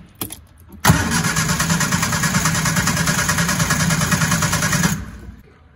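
A 1966 Triumph Spitfire engine starts from cold after a few short cranking bursts, catches suddenly and runs at a loud, rough idle for about four seconds before cutting off.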